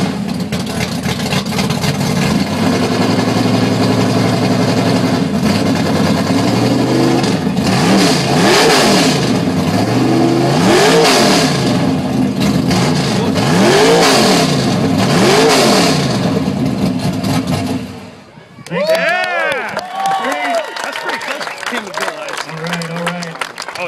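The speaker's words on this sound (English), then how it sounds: "67 Nova drag car, 600 horsepower. Let's hear it, Doug." A 600-horsepower 1967 Chevy Nova drag car engine revs hard and repeatedly close by at an outdoor car show engine-revving contest, loud rising and falling roars that cut off abruptly near the end, followed by a crowd cheering.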